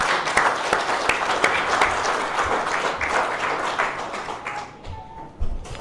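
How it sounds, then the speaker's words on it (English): Luncheon guests at a Melbourne Cup lunch give a hearty round of applause, many hands clapping in a sustained burst that tapers off near the end, with a few sharper close claps. "And Quinn, I think you deserve some applause too for bringing everyone here today"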